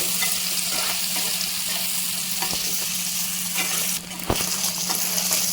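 Paneer cubes sizzle steadily in a hot pan with turmeric and chilli powder, a continuous close frying hiss broken by a few sharp clinks of a spatula against the pan.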